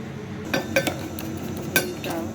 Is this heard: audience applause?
no